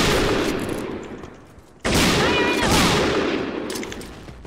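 Sustained automatic gunfire in a shooter video game, loud and close, with a brief lull before a second heavy burst of rapid shots; a voice talks faintly underneath.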